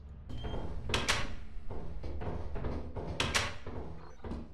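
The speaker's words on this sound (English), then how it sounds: "the Minecraft door noises are getting me" Blocky Minecraft-style wooden door sounds in a modded Lethal Company game, several sharp clacking opens and closes in quick pairs, fairly loud over a low background hum, no talking.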